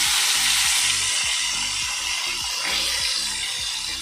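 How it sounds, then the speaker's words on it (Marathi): Cut okra frying in a pan gives a dense, continuous hiss and crackle, loud and close, steady throughout with no talking. "आता मी नी जी केल्ली कापलेली भेंडी आसा ती घालूया"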